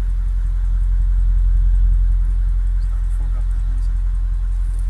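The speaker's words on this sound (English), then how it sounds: "this is the exhaust note" A 2003 Mercedes-Benz CLK500 W209 engine rumbles low and steady from the exhaust, a deep idling drone with faint mechanical ticks over it.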